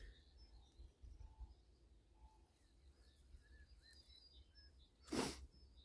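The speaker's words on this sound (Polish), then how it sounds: "Ptaszki ładnie śpiewają." Birds sing faintly in the distance in the countryside around Lindenberg, with scattered short chirps over a quiet outdoor background and a brief rustling burst near the end.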